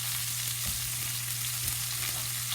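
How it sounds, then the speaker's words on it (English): Chicken pieces searing skin-down in a hot cast iron skillet, a loud, dense, unbroken sizzle with a faint low hum beneath and no speech. "get them to a hotter part of the skillet so that that skin, that sear will be good"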